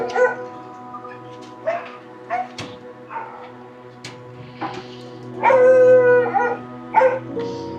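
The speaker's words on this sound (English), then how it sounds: "He's a very, very, very big dog." A very big, sick dog in Thailand lets out a series of close, strained barks, whimpers and a longer howl, with a steady low hum in the background.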